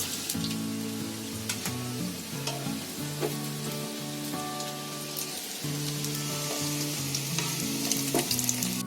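Snack patties frying in oil in a pan, a steady dense crackling sizzle that runs for the whole stretch, with a constant tonal hum in the background.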